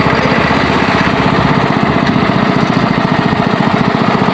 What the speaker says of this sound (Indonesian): setelah mesin tebu hidup, kita akan giling batang tebu ini ya, masuk ke dalam penggilingan